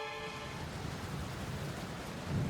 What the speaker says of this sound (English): Rain is pouring down as she looks anxious and cowers at the occasional clap of thunder